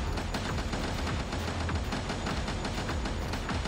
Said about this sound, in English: The dueling machine guns, that's kind of nuts.